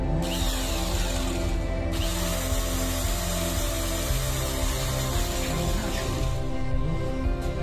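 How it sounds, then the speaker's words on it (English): A power drill spins a homemade AC generator, whirring continuously at close range, a steady mechanical hum with a slight ratcheting texture and small changes in pitch as it spins. "I rotate it 2500 times with this drill"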